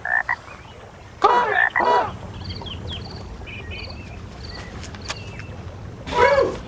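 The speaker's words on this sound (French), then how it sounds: "et les grenouilles de se plaindre" Frogs croak in loud rhythmic bursts, close by, over a busy wet outdoor background with scattered high chirps and calls from other animals throughout.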